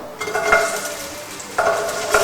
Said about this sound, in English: I've tested an onion, it seemed to sizzle